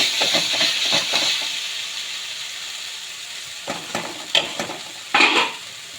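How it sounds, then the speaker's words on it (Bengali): Spice paste for palak paneer sautéing in a pan gives a steady, fairly loud frying hiss, with clusters of stirring scrapes at the start and a few sharp clicks and bursts near the end. "মশলাটা আমার প্রায় কষানো হয়ে গেছে"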